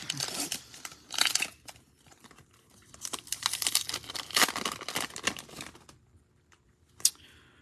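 A pack of 2021 SP hockey cards being opened, with crinkling wrapper and tearing foil in irregular bursts, near and fairly soft, fading into near silence before one last rustle.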